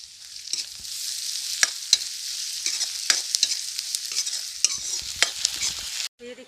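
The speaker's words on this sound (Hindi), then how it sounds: "तो लहसुन को भी हम डाल करके थोड़ी देर के लिए भून लेंगे अच्छे से।" Garlic and onion sizzle steadily in hot oil in a pan, with a spoon stirring and scraping in repeated close strokes over the constant frying hiss.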